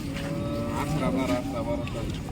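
A horned second-calving cow at a cattle market lows in a drawn-out, close moo amid market background noise.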